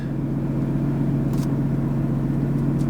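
A nearby car engine idling with a steady, loud low rumble, no distinct revving or crank audible, heard alone without talking.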